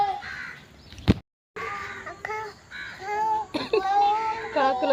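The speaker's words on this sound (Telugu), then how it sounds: "కాకులు వచ్చినాయని కావు కావుతుంది" Crows caw at a temple in short, nasal bursts among the birds' own calls. A child and adults chatter nearby, and a sharp knock is followed by a brief silence.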